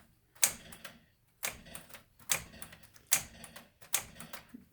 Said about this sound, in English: typewriter, Smith Corona.